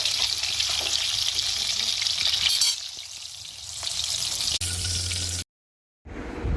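Malai seekh kebabs frying in hot oil, a loud continuous hiss and crackle that dips and returns, with a short silent break near the end before the sizzle resumes.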